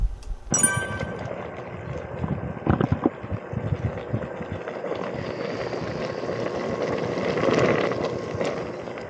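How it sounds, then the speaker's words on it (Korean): Outdoor wind buffeting a microphone at a ramen cooking and eating spot, giving a continuous broadband rumble that swells toward the end, with a few clattering knocks early on. "바람이 절로 불어서 안 돼."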